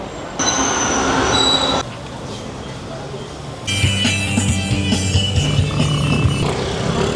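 Riding a train toward Recto in Manila, a rumbling carriage hums and rattles with squealing wheels and shifting tones, loud and steady from inside the car.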